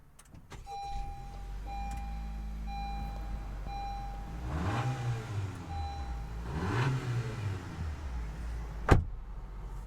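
The electric motor of a power-adjustable leather seat's lumbar support in a 2021 Honda CR-V Touring whirs in a couple of short rising and falling runs over a steady low cabin hum.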